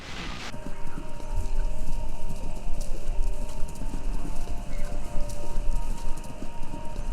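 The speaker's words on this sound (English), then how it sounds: "Sounds like horses. Horses running? A race?" Horses gallop in a race with loud, continuous rhythmic hoofbeats carried over a radio station inside a video game. Steady broadband noise sits under the hooves, along with faint tonal hum, and nobody talks.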